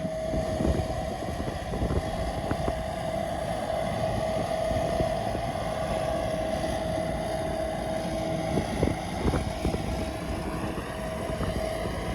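A 2012 Fendt 413 tractor pulling a 4.5-metre Ermak land leveler across a field, a steady, loud engine drone with a constant tonal whine and wind noise, heard close without talk.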